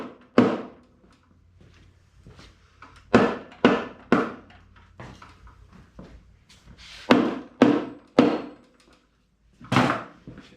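Rubber mallet striking parts on a Tesla-powered 1940 Chevy, about a dozen dull, muffled thunks in irregular clusters with quiet gaps, close and fairly loud.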